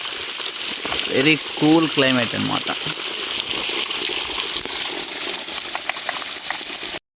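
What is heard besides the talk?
waterfall flowing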